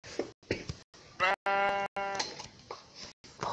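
Sheep bleat in a video game, several loud close bleats in quick succession with one long wavering cry in the middle, separated by short gaps.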